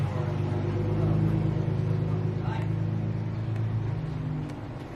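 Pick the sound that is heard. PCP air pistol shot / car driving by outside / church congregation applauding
car driving by outside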